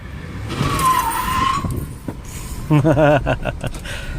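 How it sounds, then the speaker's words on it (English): A Ford all-wheel-drive car with the AWD switched off accelerates through a curve, engine roaring and tires briefly squealing and spinning, with a sharp rising whine near the end, heard from inside the car. "I can almost spin the tires now."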